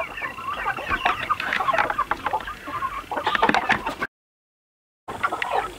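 Broiler hens in a farm pen cluck and chatter continuously at close range, overlapping calls with a brief gap of silence near the end.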